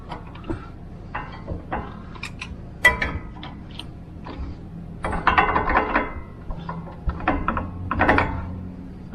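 Brake hardware and pins come off a Toyota Tacoma with intermittent metallic clicks, rattles and scraping bursts from hand tools, close and irregular, with no talk.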